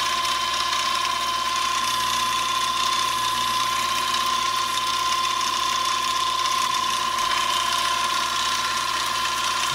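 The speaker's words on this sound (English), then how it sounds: "I'm going to slow this lead screw down a little. It's going a little fast." A mini lathe leadscrew turning fast through metal change gears, a steady close mechanical whine with continuous ratcheting gear chatter and an even hum, running alone without talk.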